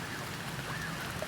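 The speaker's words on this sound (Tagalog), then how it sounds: "masama ang panahon, gadilim ulan-ulan dito sa amin guys" Light rain falls outdoors under a dark, overcast sky, a soft steady hiss of drops with no voices, low and even throughout.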